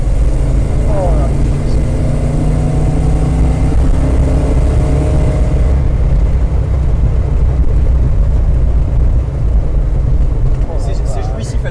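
A 1969 Dodge Charger's engine roars under hard acceleration, a loud continuous rumble that builds and holds throughout, with people talking over it inside the car.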